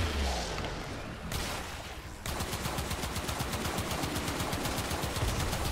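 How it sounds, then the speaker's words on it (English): Pistol gunfire in the video game Warframe comes as a rapid, loud stream of repeated shots, dense and continuous after a brief muffled stretch. "you could Eidolon hunt with this pistol"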